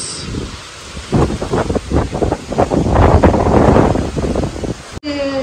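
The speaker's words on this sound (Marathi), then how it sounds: "बघा, तुफानी वारा आहे" A strong stormy wind with rain at the start of the June monsoon roars and buffets the microphone in loud, continuous gusts, ending with a brief cut.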